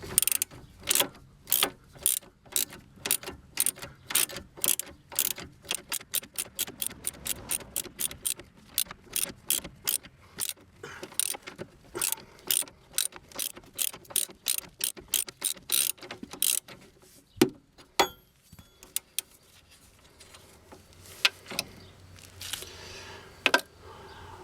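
A hand ratchet unscrews the lower nut of a car's shock absorber while the shocks are being replaced: a long run of rapid, close pawl clicks, slowing into scattered clicks and pauses near the end, without talk.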